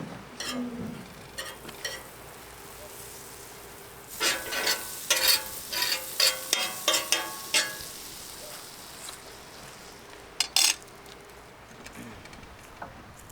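Soft crab frying in butter sizzles softly in a pan, with bursts of louder crackling and spattering pops in a cluster midway, then quieter hissing.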